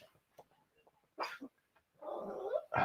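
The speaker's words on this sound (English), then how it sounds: "The neighbor's dog is going to make my dog bark." Dogs barking at an RV park, a neighbor's dog setting off another dog, in a few loud, rough bursts near the middle of the clip and again toward the end, with quiet stretches between.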